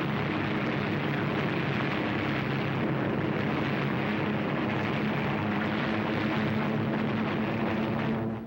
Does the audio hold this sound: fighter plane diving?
yes